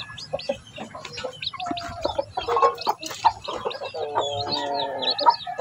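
Chickens and chicks from a Basilan and Rhode Island Red cross cluck and cheep close by, with overlapping peeps and short clucking calls continuing throughout, with no talking.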